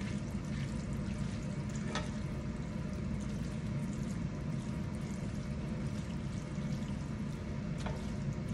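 Cajun kitchen seasoning being stirred around in a hot pan of chicken, a steady dense sizzle and frying hiss throughout with faint scrapes of the spoon, close and continuous.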